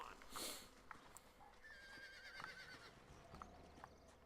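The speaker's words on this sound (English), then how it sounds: "Looks like Carlos lifted some horses." Horses in Red Dead Redemption clip-clop and one neighs shrilly near the start, with scattered hoofbeats and faint game effects continuing at a low level.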